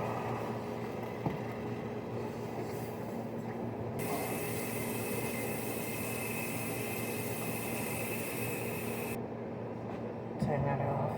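Tap water runs steadily into a pot while gravy is being made for a homemade meatloaf and cabbage dinner, a continuous rushing hiss that stops near the end, with a person talking over it.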